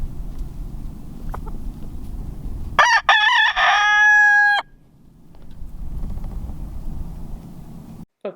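Backyard chickens in the Wyoming mountains in early spring, with one rooster giving a loud, close cock-a-doodle-doo crow over a murmur of soft clucking and outdoor background noise.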